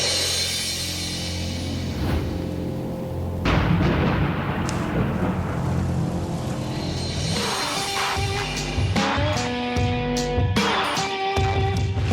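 Thunder rumbles and cracks repeatedly in the woods as a storm approaches, with deep rolling booms and sharper cracks spread across the whole stretch, fairly loud.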